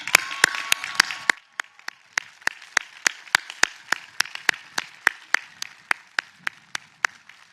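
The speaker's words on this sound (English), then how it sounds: "So, a well-earned round of applause." Sparse clapping from a small audience at a law school convocation honoring graduates, a brief burst of several hands fading quickly into a slow, evenly spaced run of single claps, crisp and close.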